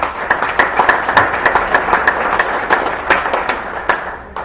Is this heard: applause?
yes